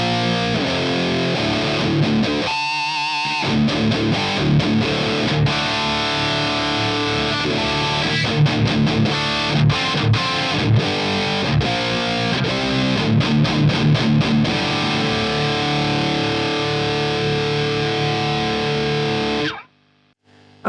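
Electric guitar played through a TWS Lulis amplifier into a Marshall 1960 AV cabinet with Vintage 30 speakers, loud distorted chords and riffs ringing continuously, close-miked, with a brief pause near the start.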